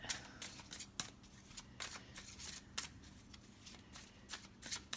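A deck of cards being shuffled alone, with a rapid fluttering riffle broken by sharp bursts of card snaps at an irregular rhythm, heard close and moderately loud over a faint low hum.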